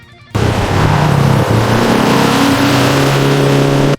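A classic Dodge Charger muscle car engine starts abruptly into a loud, deep rumble, revving with pitch rising and dipping, held close and strong for several seconds before cutting off.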